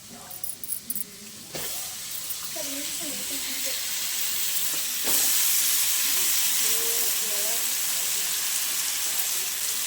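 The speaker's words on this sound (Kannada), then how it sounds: "ಈಗ ಬದನೆಕಾಯಿ ಆಲೂಗಡ್ಡೆ ತೊಳೆದು ಕಟ್ ಮಾಡಿ ಇಟ್ಕೊಂಡಿದ್ನಲ್ಲ ಅದನ್ನ ಹಾಕ್ಕೋತೀನಿ" Cut brinjal and potatoes drop into a hot pan with tomato for a village-style sambar, setting off a steady loud sizzle and hiss after a few clattering knocks at the start.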